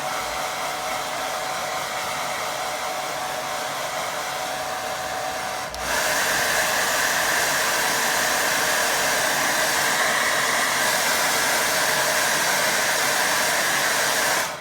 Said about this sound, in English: I'm going to get that tiny dry